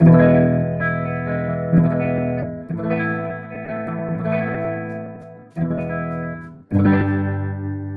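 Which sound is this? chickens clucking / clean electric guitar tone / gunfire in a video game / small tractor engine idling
clean electric guitar tone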